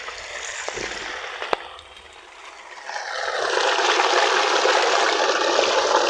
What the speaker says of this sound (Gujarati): આ પાણી અહીંયા કૂવામાંથી આવે.